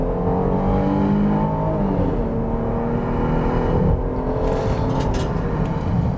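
2021 Jeep Grand Cherokee L Overland with a 3.6-liter Pentastar V6 accelerating hard from 0 to 60, engine note climbing steadily through the gears, loud and close from inside the cabin, with no talking.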